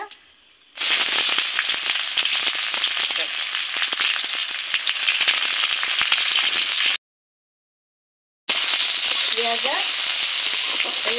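Onions frying in hot oil with bay leaf and black pepper for an Odia fish curry make a loud, dense crackling sizzle, briefly cut to silence partway through, then resuming with faint clinks of stirring.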